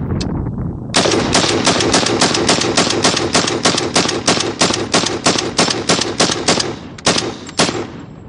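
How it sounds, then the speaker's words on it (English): Rapid bursts of firearm shots at an outdoor shooting session, loud and close, a long string of sharp evenly spaced cracks for several seconds with a brief pause near the end. "So we got to do some real good rapid fire stuff."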